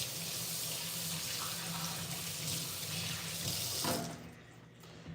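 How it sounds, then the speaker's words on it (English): Water runs steadily from a kitchen tap while hands are washed, a close, full rushing hiss that cuts off near the end as the faucet is turned off. "let me wash my hands"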